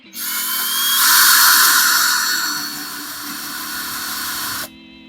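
A power drill pushes through a wall toward stucco behind an outdoor outlet box, a loud continuous grinding whir up close that swells, then holds steady for several seconds before cutting off abruptly.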